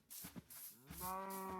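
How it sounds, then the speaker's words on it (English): Cattle in the Minecraft video game lowing in two moos, a short one followed by a longer, drawn-out harmonic moo, close and clear with no talk over it. "We got two cows."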